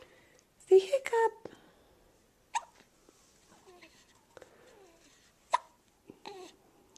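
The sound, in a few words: child hiccuping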